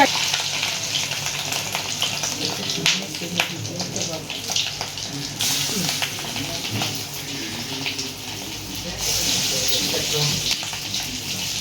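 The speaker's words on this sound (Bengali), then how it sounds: "তেলটা দেখুন, তেলটা একদম গরম করে নিতে হবে, তাহলে কি বড়াটা লেগে যাবে না।" Fish roe fritters sizzle and crackle in very hot oil in a Bengali home kitchen, a steady close frying hiss with occasional spatters and stirring, and a voice talking intermittently over it.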